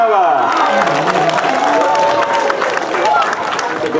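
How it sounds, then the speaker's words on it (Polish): A crowd gives loud, dense applause and cheering for a wind band at an award ceremony during a regional orchestra parade, with tonal calls rising through the clapping. "Gorące brawa!"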